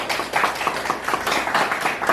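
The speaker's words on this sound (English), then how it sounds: "We need to clap on that for the council." An audience at a town anniversary celebration and open house claps for the council in a short burst of uneven, moderately loud hand claps with a loose, pulsing rhythm.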